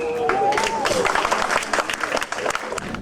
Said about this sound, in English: In the end, the elephant got applause for its hard work.